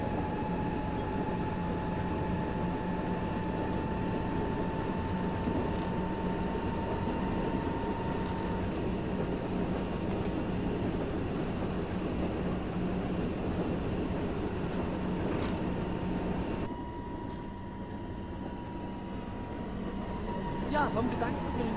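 An S-Bahn train of class BR 480 runs in the Open Rails train simulator on the Teltow Stadt to Yorckstraße line, giving a steady motor drone and rolling rumble with an abrupt change near the end.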